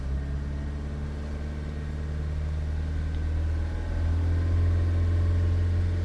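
A Nissan NV300 van's diesel engine, with fault codes P0470 and P0471, runs held at about 2,500 RPM, a continuous low drone with constant tone, close by and fairly loud, no voices.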